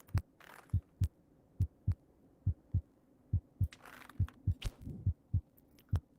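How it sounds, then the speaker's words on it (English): A slow, regular heartbeat from the VR game In Death: Unchained thumps about twice per second, deep and steady, with faint ambient game noise between the beats. "So yeah, you guys can hear the heartbeat right now."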